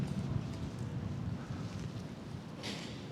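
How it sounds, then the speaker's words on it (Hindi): Strong wind buffets the microphone on a rainy city walk in Stockholm, a steady low rumble and roar that runs through the whole stretch with brief hissy gusts near the end. "बहुत तेज हवा चल रही है भाई लोग."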